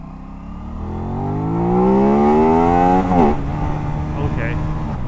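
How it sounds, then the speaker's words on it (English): A 2025 Aprilia RS 660 motorcycle revs out through first gear, its engine note climbing steadily and loudly before a quick shift-like break, then settling into a steady drone. "We'll try to rev out first gear here"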